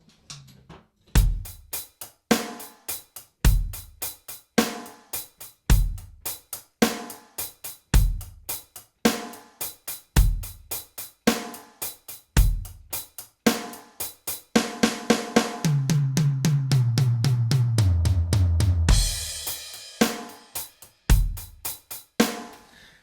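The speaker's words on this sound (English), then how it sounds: "This is the version where you play one stick on the hi-hat all the way," A drum kit plays a steady 16th-note groove with one stick on the hi-hat, kick and snare hits, close and rhythmic, with a roll descending around the toms before the beat resumes.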